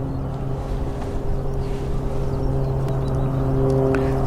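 A steady, rumbling aircraft engine drone passes directly overhead at an airfield, continuous and fairly loud, with a low buzzing hum and no voices.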